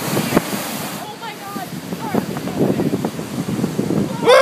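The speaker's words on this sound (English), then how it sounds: "I'm hoping to capture these big waves blowing up over the edge here" Big ocean waves crash and burst over a rocky edge on the Maui coast, a steady roar of surf and wind buffeting the microphone, with a louder surge near the end and scattered voices over it.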